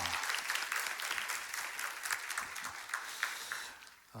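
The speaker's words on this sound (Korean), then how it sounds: "우리 주님께 감사하는 마음으로 한 번 더 박수하겠습니다." A church congregation at a Sunday service claps together in a sustained, even round of applause, a dense rustling patter heard at moderate distance before it tapers off.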